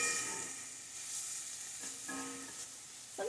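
Beef chunks sizzle and brown in a hot pan for stew, a steady broadband frying hiss running throughout with a few brief louder spatters and clatters near the end.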